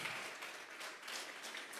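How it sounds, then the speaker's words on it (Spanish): Congregation in a church giving an offering of applause, a steady wash of many hands clapping at moderate distance, sustained without pause and with no voices standing out. "Vamos a regalarle ofrendas de palmas al Dios de la gloria."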